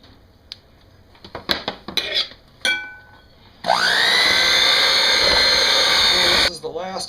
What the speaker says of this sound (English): Put a little bit of flour in. Mix it on low speed.